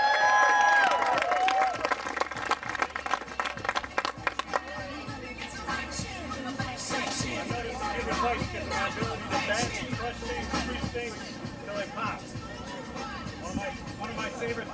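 An outdoor bike-festival crowd applauds a strongman after a feat of strength, steady scattered clapping and some cheering at moderate distance, with a voice talking over it at the start.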